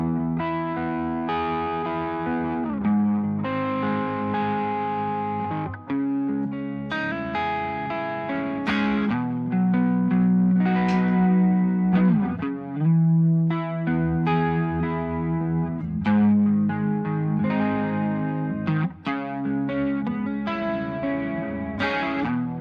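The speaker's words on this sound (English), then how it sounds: "This thing is definitely working. Way too much reverb on that" An electric guitar played through a Boss IR-2 amp simulator rings out with heavy, washy reverb, sustained distorted chords and note runs with long decaying tails.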